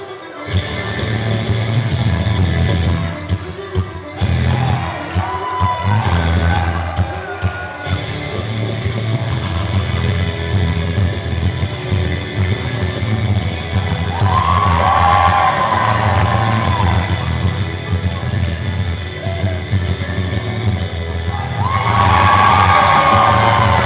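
Crowd cheering at a wrestling event, a loud, sustained roar of voices and whoops filling the arena throughout, with a few louder swells and shouts rising near the middle and the end.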